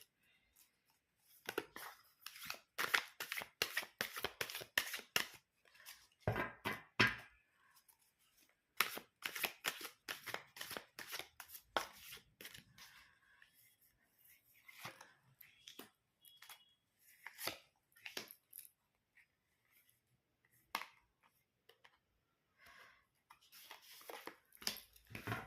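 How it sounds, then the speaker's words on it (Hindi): A deck of tarot cards is shuffled by hand in quick bursts of dense, papery riffling, with brief pauses and then slower single flicks and snaps near the end. The shuffling is close, and no one speaks. "तो करते हैं कार्ड शफल और देखते हैं कि आपके लिए डिवाइन की क्या एनर्जीज यहाँ पर निकल कर आती"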